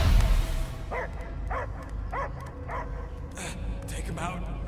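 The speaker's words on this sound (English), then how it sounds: "I hear only barking." A dog barks in the Guardians of the Galaxy video game, a series of evenly spaced, mid-distance barks and yips over a low rumbling game soundtrack, following a brief loud thump at the start.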